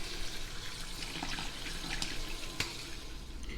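Tap water runs steadily into a sink, a continuous splashing hiss with a few small clinks, close by and with no talking.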